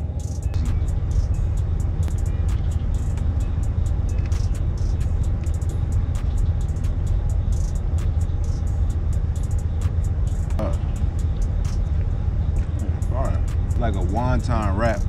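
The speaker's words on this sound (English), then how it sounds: "I'm on my car and it's running" A car engine runs steadily with a low, constant rumble throughout, with brief bits of higher sounds near the end.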